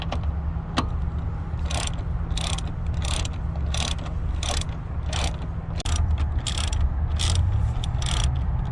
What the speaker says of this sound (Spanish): Vamos a utilizar un socket E14 europeo y un ratchet de media.